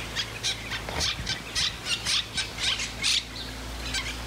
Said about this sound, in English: You hear all those birds? Most of them are parrots.